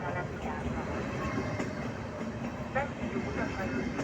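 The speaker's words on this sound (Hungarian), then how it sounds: "G43-as gyorsított személyvonat érkezik Székesfehérvár felől a 8. vágányra." A passenger train rolls steadily into a station track with a continuous rumble and rail noise, no voices.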